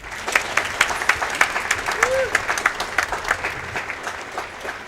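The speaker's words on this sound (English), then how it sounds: "So actually give him a round of applause instead of one clap." A crowd at the SGDQ 2016 speedrun marathon, during a Fallout 4 run, gives a sustained round of applause with rhythmic clapping, while a voice talks over it and a brief whistle rises midway.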